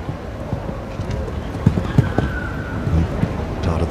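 Hooves of a young eight-year-old stallion thudding on the arena footing at a Dublin show jumping event, a steady clip-clop under a loud crowd and arena ambience.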